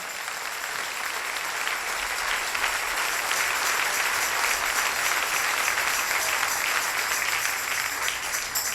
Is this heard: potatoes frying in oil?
no